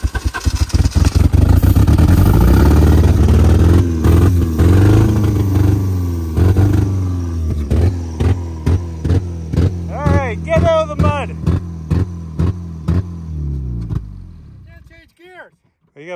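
An old Ford engine cranks and catches with help from ether, then runs loud and rough and revs in repeated bursts before it settles and cuts off near the end. People talk over it at times.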